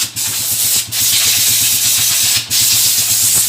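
A Honda TMX155 motorcycle engine idling close by, a steady low chugging pulse with a loud hissy wash over it that briefly drops out a few times.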